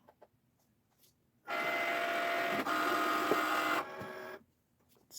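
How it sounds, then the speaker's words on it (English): Cricut Maker cutting machine working through a rhinestone template: a steady mechanical whir and buzz starts abruptly, runs for about three seconds with a slight shift midway, then drops to a softer hum before stopping, close and alone. "go ahead and place it on my Cricut Maker and press start"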